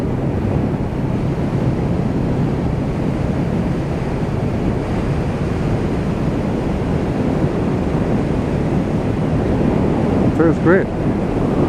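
Steady, loud wind rush over the helmet while riding a Honda CB500X adventure motorcycle on the road, a continuous roar with engine drone underneath and a brief spoken remark near the end.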